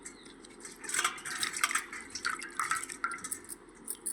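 Water for an herbal decoction with black betel leaves trickles and splashes in soft irregular bursts, fairly quiet and close, with no talking.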